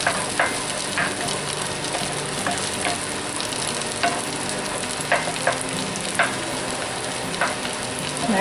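Eggs sizzle steadily in a cast iron pan beside bacon fried rice, a close, continuous frying hiss punctuated by regular light scrapes and taps of a utensil stirring, with no talking.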